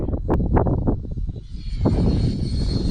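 An Arrows RC Avanti S 50mm electric ducted-fan model jet flying at a field: a steady, fairly loud whine carries throughout, with gusty low rumbles of wind early on.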